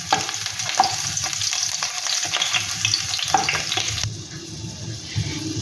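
Sliced ginger and whole garlic cloves fry in a pan for black pepper chicken, making a loud, close, crackling sizzle with stirring clicks that settles into a softer, duller hiss near the end.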